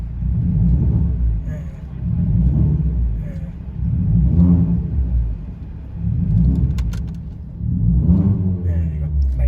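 A 2012–2018 Ford Focus MK3 engine fitted with an electronic throttle controller rises from idle. Its deep, close rumble swells and falls back in about five even surges.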